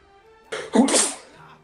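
A single loud human sneeze bursts out at close range, a short sharp inhale-and-release with no other sound around it, heard over a World of Warcraft game session.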